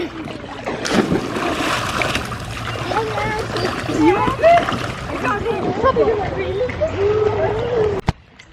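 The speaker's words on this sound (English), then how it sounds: "I'm not going to throw it because it's going to splash" Water splashing and sloshing in a swimming pool on a sunny day, with several short splashes and churning water, while children and adults talk and call out over it.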